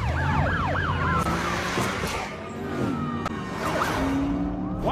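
A wailing police siren sweeps up and down loudly over engine and traffic noise, fading slightly midway before rising again.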